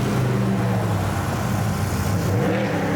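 Engine of the Pennzoil Mustang RTR Spec 5 drift car at a Formula Drift event in Irwindale, heard as a loud, close, continuous mechanical roar with a shifting pitch for a few seconds and no talk.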